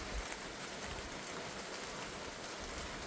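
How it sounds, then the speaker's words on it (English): Steady rain falls harder onto a road and concrete surfaces, a dense, even hiss that fills the space without a break and stays constant throughout. "Starting to rain a little harder, you can't see it."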